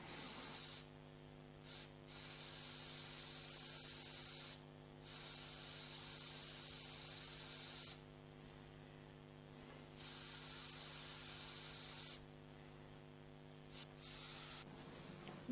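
An airbrush mists dark blue paint mixed with phthalo green in repeated bursts of soft, airy hiss, separated by brief pauses, over a faint steady background hum.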